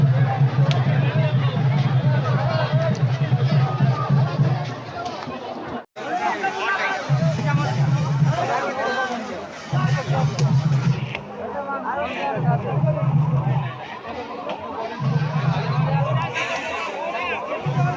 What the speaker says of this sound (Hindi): बहुत भीड़ है